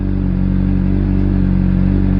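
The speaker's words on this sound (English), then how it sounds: "right now it's sitting here idling at about 1500 RPM" A 2018 Honda CBR600RR motorcycle with its catalytic converter removed idles steadily at about 1500 RPM at close range, a low, even rumble with a faint mechanical clatter and no change in pitch.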